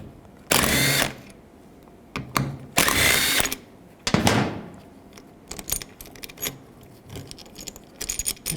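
A 10mm socket on a power tool removes the bolts holding a wiper motor on a 2010-2017 Chevrolet Equinox, with several short whirring bursts separated by quiet gaps, followed by light metallic clinks and handling noises up close.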